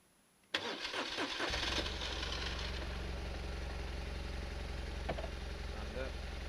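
A BMW R1200RT motorcycle engine cranks and catches after a moment of quiet, then settles into a steady, close idle rumble that holds to the end.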